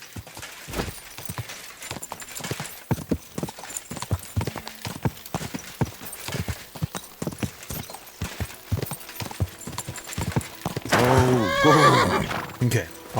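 Rhythmic hoofbeats of a galloping horse in Kingdom Come: Deliverance II, steady and close, ending with a loud whinny near the end.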